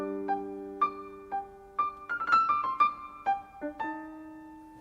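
A melodic theme from Giya Kancheli's Styx played in a major key, sustained tonal notes rising and shifting in a slow, clear phrase over a held low chord.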